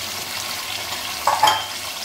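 Biryani masala frying in a pan after tomatoes and yogurt go in, a soft steady sizzle that swells briefly into a louder hiss and crackle near the end.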